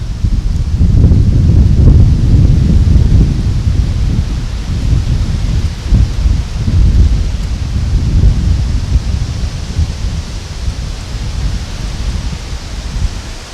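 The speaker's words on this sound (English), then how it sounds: "It's a windy one out there today." Strong, cold wind gusts roar outside a lodge in a heavy, continuous rumbling rush that rises and eases in waves, loud and close, with no voices.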